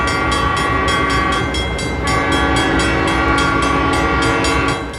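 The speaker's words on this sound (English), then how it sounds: "San Joaquin train 711 slowly rolls into Port Chicago for a crew change" An Amtrak San Joaquin diesel passenger train rumbles slowly past nearby at Port Chicago, California, with a steady engine drone and a regular clickety-clack of wheels over rail joints, loud throughout.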